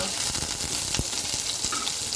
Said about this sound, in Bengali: পেঁয়াজটাকে সুন্দর মতন আমি ভেজে নেব